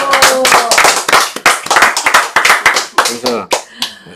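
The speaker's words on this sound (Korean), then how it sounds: "장사환이하고 아영이한테 박수." A church congregation claps their hands together in a loud, close burst of sharp, slightly uneven claps. The clapping thins toward the end and faint voices come through under it.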